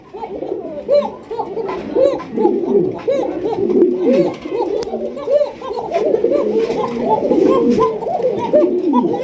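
A flock of pigeons bred for sale in Bangladesh coos continuously nearby, many overlapping rolling coos forming a dense, steady chorus throughout.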